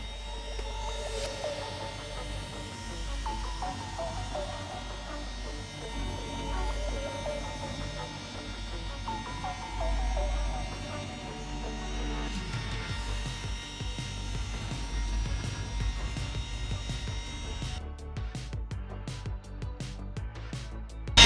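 A detailing polisher run at speed 2 with compound on a car's paint, a steady motorized hum and whine holding constant throughout, close by, with slight pitch shifts near the end.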